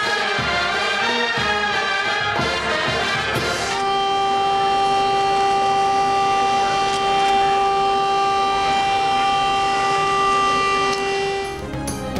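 A steady, loud civil defense siren wails for a one-minute silence at an Independence Day and Kashmir Solidarity Day ceremony at the Convention Centre in Islamabad, holding a sustained tone after a brief noisy start.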